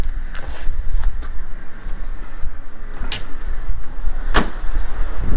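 Truck doors slam shut several times, each a sharp close thud over a continuous background hum, with the loudest slam near the end.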